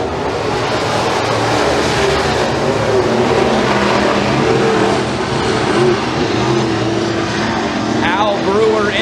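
Pro mod race cars roar side by side down the front straightaway at McKean County Raceway, a steady loud engine drone with a revving pitch sweep near the end, under continuous announcer commentary.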